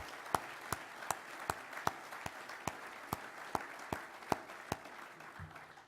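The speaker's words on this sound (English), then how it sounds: "how about another great round of applause for these dedicated industry leaders" At an industry awards ceremony, faint audience applause for the winners runs as a soft hiss of many hands, with a steady rhythm of louder individual claps standing out close by about every half second.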